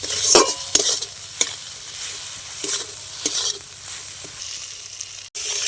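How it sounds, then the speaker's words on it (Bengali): Spices for a Bengali pomfret curry sizzle steadily in a pan while a spoon scrapes and stirs them in several sharp, close strokes, with no talking. "এবার খুব ভালো করে আমি নেড়ে নেবো কিছুক্ষণ"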